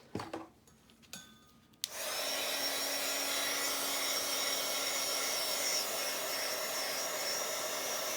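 A heat tool starts up partway through and then blows a steady, loud, continuous whoosh, drying craft paint on a Halloween paper project after a few quiet handling sounds.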